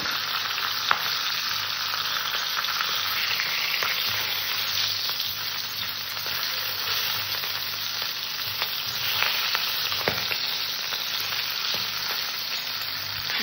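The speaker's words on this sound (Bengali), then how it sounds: "আমি সর্বপ্রথমে মাছের মাথা দুটো ভেজে নেব।" Fish heads frying in hot oil give a steady, dense sizzle that runs unbroken from start to finish at an even level, close by and with no one talking.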